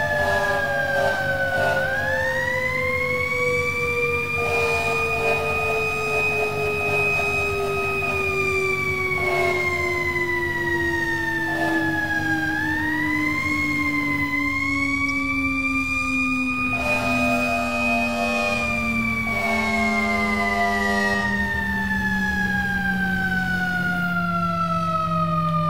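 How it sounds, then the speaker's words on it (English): Fire truck sirens in the EmergeNYC video game wail loudly and continuously, the pitch sweeping up and down in long cycles over a low engine rumble. "All the sirens."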